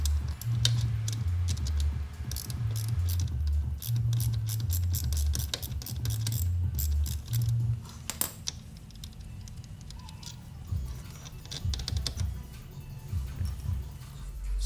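A wrench works a 13mm nut off the third brake caliper pin on a Hellcat during a brake pad job, giving close irregular ticks and ratcheting clicks over a low droning background hum.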